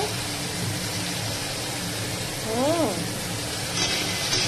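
Food frying and sizzling steadily in a pan during home cooking, a constant hiss with a brief bright tone partway through.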